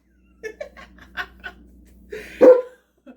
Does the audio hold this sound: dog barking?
yes